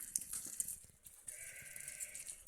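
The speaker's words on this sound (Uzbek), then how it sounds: "Yaxshi jonivorlar o'ta kuchida qo'ylar mana" Fattened sheep in a livestock pen bleat in short, nasal calls, with a few quieter animal noises around them at close to moderate distance.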